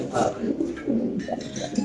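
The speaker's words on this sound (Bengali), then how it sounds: "এক জোড়া পাইট রেসার নরের ডাকটা দেখাচ্ছি" A male racer pigeon gives a close, throaty cooing call in short pulsing bursts, with faint higher chirps from other birds behind it.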